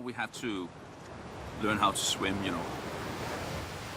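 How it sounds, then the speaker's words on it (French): Atlantic Ocean waves wash in with a steady roaring surf and wind noise, partly under speech. "And we have waves coming in from the Atlantic, old waves"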